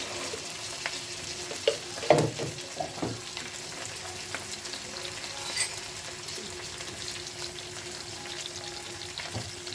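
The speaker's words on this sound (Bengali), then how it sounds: "দিয়ে সুন্দর করে মশলাটা ভেজে নিচ্ছি।" Spice paste with turmeric and green chillies frying in a pan, a steady close sizzle with occasional scraping stirs and clinks, no voices.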